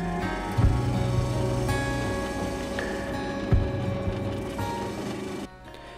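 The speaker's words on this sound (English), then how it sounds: "So you use the left side of the wheel to cut the right side of the indent" A lapidary arbour wheel grinds an opal heart, giving a steady mechanical whir with faint tonal whine and two brief knocks, running alone before cutting off near the end.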